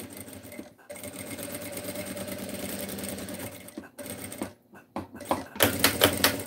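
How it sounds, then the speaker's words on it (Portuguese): A sewing machine stitches a cutlery holder, a steady mechanical whirring run of needle strokes that pauses briefly, restarts in short bursts and ends with a louder, faster stretch. "Daí eu pego a agulha e coloco bem assim no comecinho do, do pezinho lá. E começo a costurar."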